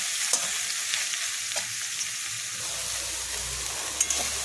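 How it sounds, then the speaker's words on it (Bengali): Boiled small soybean chunks frying in a pan sizzle steadily and closely, with a few clicks of a spatula stirring them as the frying continues. "সেদ্ধ সয়াবিনটাকে একটু লাল লাল করে ভেজে নেব"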